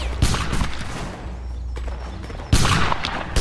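Musket volleys crack in a Napoleonic Wars battle game, with a sharp ragged burst of gunfire near the start, scattered shots and rumble in between, and a second loud volley later on. No voices are heard.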